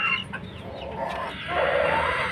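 A Cuban tiger hen gives a short run of soft clucks close by, with a brief louder call near the end. The sounds are quiet and alone, with no talk.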